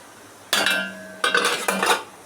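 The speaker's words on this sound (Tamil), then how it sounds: "இட்லி தட்டை வச்சு" Steel idli plates and tumblers clink and clatter as they are set into a hot steamer, two loud bursts of metallic ringing with a sustained tone, no talking.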